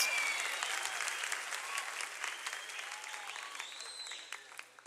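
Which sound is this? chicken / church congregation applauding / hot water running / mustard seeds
church congregation applauding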